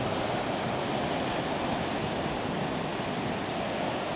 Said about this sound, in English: the waves, the shoreline crashing.